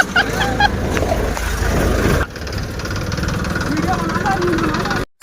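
Sonalika and Eicher 380 tractors locked in a tug-of-war, their diesel engines straining and rumbling steadily at close range under loud voices and crowd noise, with a brief drop partway through and a short cut near the end.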